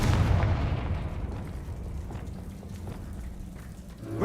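Confringo, a blasting spell, is cast in the video game Hogwarts Legacy: one sharp explosive burst at the start that trails into a fading rumble.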